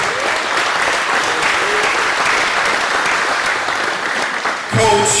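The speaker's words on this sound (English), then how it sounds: "I want you to give a big round of applause to Coach Antonio Moore." An audience at a high school football bowl game press conference breaks into loud, sustained applause that fills the room steadily for several seconds and fades near the end.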